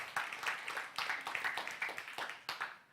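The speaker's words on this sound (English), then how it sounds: "An applause." Applause from a seminar audience, fairly quiet, with individual claps distinct at a fast, uneven pace, tapering off toward the end with no speech over it.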